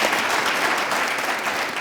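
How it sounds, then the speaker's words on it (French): A studio audience on a television entertainment show bursts into loud, continuous clapping, a brief dense patch of applause. "Simon, on va l'applaudir."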